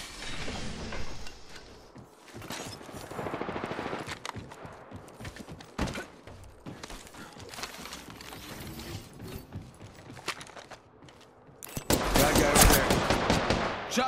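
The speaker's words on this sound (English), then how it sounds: "Shots fired, and they're hitting me" Gunfire in an Apex Legends match while playing Mirage: repeated sharp weapon bursts and single shots scattered throughout, close and loud, ending in a dense heavy burst, with mechanical clatter between.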